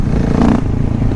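Motorcycle engines droning and revving as bikes ride through Mt Druitt, a loud close rumble with a brief swell, heard alone without talk over it.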